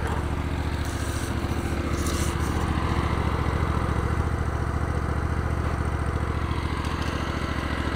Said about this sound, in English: So I'm gonna get trenching here and move the backhoe first.